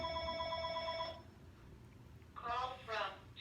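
A telephone rings briefly at home, a warbling electronic tone for about a second, fairly close. Then it stops and a person speaks over light background noise.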